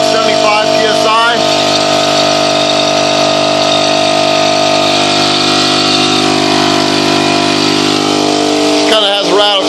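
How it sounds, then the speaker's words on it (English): An air compressor set to 75 psi runs loud and close, a steady motorized hum with a layered mechanical drone throughout, with brief talk at the start and end. "I've adjusted my air compressor down to 75 psi so that it can run 75 psi"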